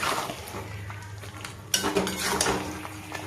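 A spoon scrapes and clatters against a pot as chicken and potatoes are stirred and sautéed. It is quieter at first and becomes louder, busier scraping in the second half.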